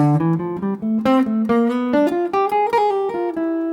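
A short jazz guitar line of clean, picked single notes moving upward in a quick, even phrase, played alone.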